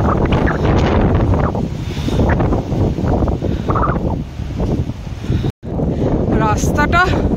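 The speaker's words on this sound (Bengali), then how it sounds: "ঝড়ের মতো হাওয়া দিচ্ছে।" Stormy wind buffeting the microphone on a steep road to Tawang monastery in sudden bad weather, a loud continuous roar with one brief dropout, and a voice faintly heard near the end.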